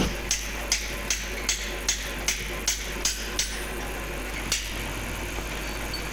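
Regular metallic taps, about a dozen evenly spaced light strikes of a hammer on a machine bracket part at a lathe, over a steady low mechanical hum, then one last tap after a pause.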